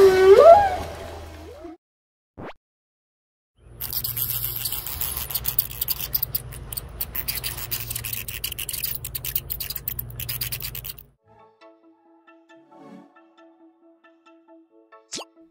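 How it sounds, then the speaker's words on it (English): Bat calls in an animal sound quiz: a quick run of high, chirping squeaks at the start, then a long burst of dense rapid clicks and buzzing, ending in scattered faint ticks. "The correct answer is a bat."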